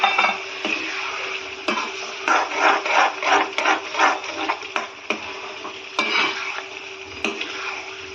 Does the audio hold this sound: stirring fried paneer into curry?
yes